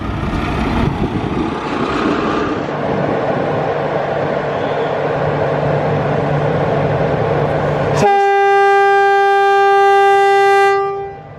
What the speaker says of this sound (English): Shunter again, bringing in some coaches.